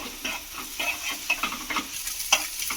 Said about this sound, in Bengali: ডিমটাও বেশ কিন্তু মানে ভাজা হয়ে এসেছে একটুখানি নাড়াচাড়া করে দেবো এইভাবে